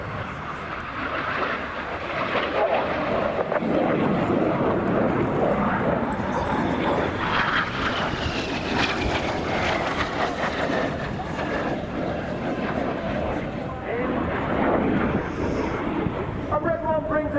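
Red Arrows display jets performing formation manoeuvres at an air show, a sustained loud roar with a rising whine, buffeted by wind noise on the microphone throughout.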